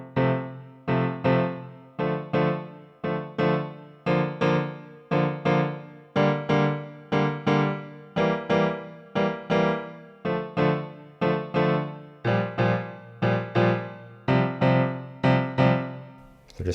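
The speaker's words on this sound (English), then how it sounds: "So left hand alone would sound like this." Piano left hand alone plays the part from a song, repeated low chords struck in an even four-beat pattern, each decaying before the next, with no talking.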